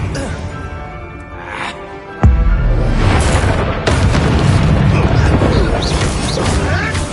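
A Bombarda spell explodes with a sudden heavy boom and crashing debris in Hogwarts Legacy, followed by rumbling combat noise while a voice talks over the action.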